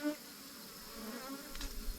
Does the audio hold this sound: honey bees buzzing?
yes